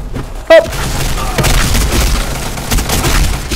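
Gunfire in the online shooter BlackSquad, a sharp close shot followed by a string of dull booming reports and thumps spread over a few seconds, with a little talk mixed in.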